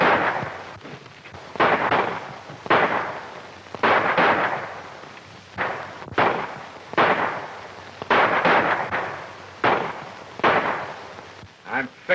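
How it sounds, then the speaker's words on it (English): Gunfire from a shootout in a 1935 Western plays as a run of loud, sharp shots at irregular intervals, each with a booming echo, over old-film background hiss. "By the sounds of the shooting outside"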